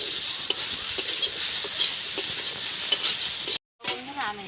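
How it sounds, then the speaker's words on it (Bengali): Onions fry and sizzle in a dry wok for a chicken and potato curry, a steady loud crackle with repeated scraping stir strokes, briefly cut off near the end before resuming. "শুকনো কড়াই একদম হালকা করে ভেজে নেব এখন"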